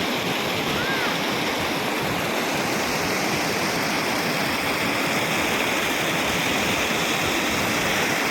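Water of the Nagini river, fed from the large Kunigal lake, rushes steadily past at close range in a loud, continuous broadband roar with no pauses and no voices.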